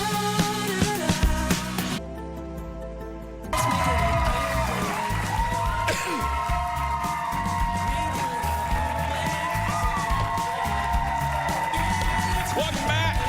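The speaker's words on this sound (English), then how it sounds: "keep the clapping going" A studio audience claps and cheers at a daytime talk show, a dense and loud crowd roar with whoops that drops out briefly and then surges back. Voices are heard beneath it.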